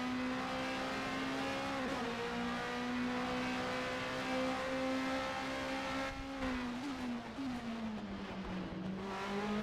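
A BMW Class 1 race car driving a track, its engine holding a loud, steady drone with pitch dips as it shifts and brakes, then climbing again on acceleration, heard close and alone.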